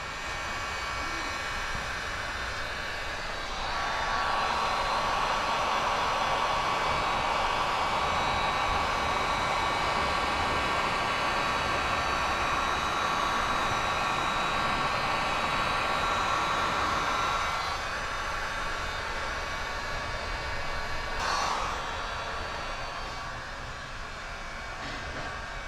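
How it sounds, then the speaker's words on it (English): A heat gun set to 650 blows a steady, loud roaring whoosh while paint protection film is wrapped around a car's edges, holding level for most of the stretch with slight shifts as it moves. "I've got the heat gun at 650"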